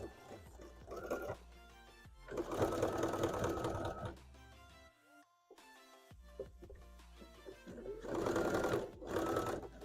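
Sewing machine stitching through four thick layers of fabric, running in bursts with its motor whirring and needle hammering, pausing briefly between runs and louder as it works over the bulkiest sections.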